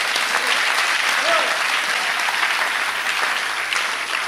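Church congregation applauding, a dense sustained clapping from many hands filling the room at steady loudness throughout.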